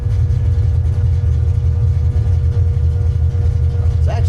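A carbureted car engine drones steadily while driving, heard from inside the car as a loud, continuous low rumble with slight fluctuations in pitch.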